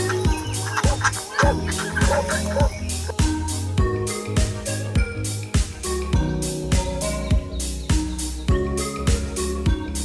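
Roosters crow and hens cluck over a busy, loud farmyard din on a cold morning in Rayak, Lebanon, with repeated bursts and overlapping animal calls throughout.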